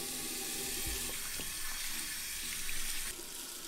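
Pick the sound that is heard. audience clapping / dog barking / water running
water running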